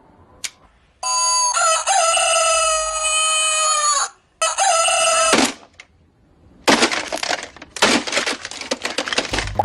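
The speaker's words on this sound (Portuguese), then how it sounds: "daquele galo cantando na madrugada para te acordar" A rooster crows at dawn in long, loud, close calls, two drawn-out cries separated by a short gap, followed by rapid clucking and jittery fowl noise.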